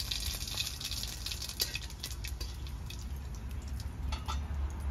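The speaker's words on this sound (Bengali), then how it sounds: "ফোড়নের উপর ঝোলটা ঢেলে দেব।" Curry broth from an egg, taro and potato curry poured over a tempering of radhuni and bay leaf, a steady soft liquid patter and drip running close and unbroken, with no talk.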